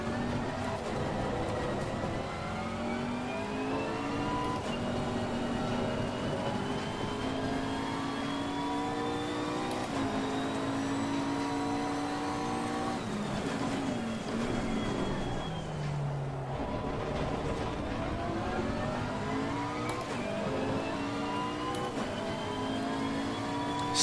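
A McLaren 650S race car in Assetto Corsa Competizione laps a wet Zolder circuit, its engine droning loud and continuous, pitch rising and falling through gear changes, with a brief dip before pulling hard again.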